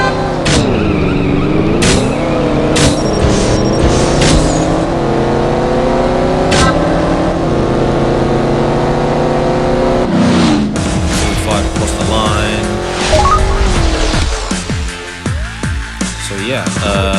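Race in the mobile game CSR Racing: loud, continuous synthetic engine revving with rising gear-shift sweeps and abrupt shifts, dense game audio that turns busier and more clattering toward the end.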